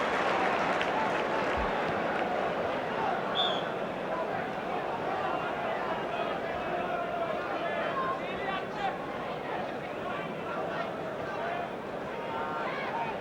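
A football stadium crowd applauding and murmuring steadily in a broad wash of sound, with a commentator talking over it the whole time.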